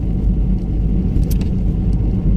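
Renault Scenic 2 driving, heard from inside as a steady loud low road and engine rumble with light rattles and a few faint high clicks, no talk.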